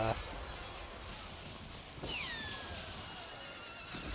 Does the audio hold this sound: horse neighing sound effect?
yes